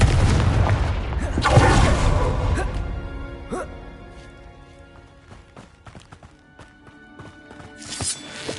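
Confringo spell in Hogwarts Legacy bursting with a booming explosion, followed by softer rumbling, scattered impacts and game effects, with another burst near the end.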